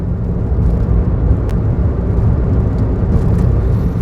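A Daihatsu Tanto kei car on a test drive gives a steady, fairly loud engine and road hum from inside the cabin, with no talking heard.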